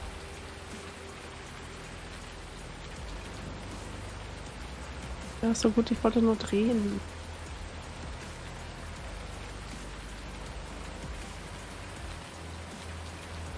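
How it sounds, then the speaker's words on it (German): Steady in-game rain from the farming video game Landwirtschafts-Simulator 19, a continuous even hiss running throughout, with a brief burst of speech in the middle. "Ich höre noch Regen."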